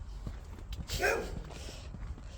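A single short dog bark rises out of quiet background noise and soft thumps, heard a little way off with no talking.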